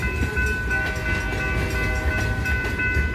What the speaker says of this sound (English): It's gonna be a long train here on the Portland and Western Railroad.